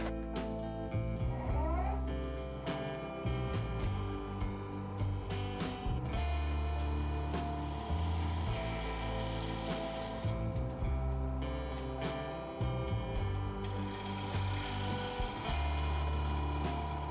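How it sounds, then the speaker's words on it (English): A wooden bowl with a pentagon shape is turned on a lathe with a 3/8 inch bowl gouge, giving a continuous scraping, rubbing cut over the steady motor hum, nearby and with brief pauses. "I'm going to switch to my 3/8 inch bowl gouge now and see if I can get a finer cut with it."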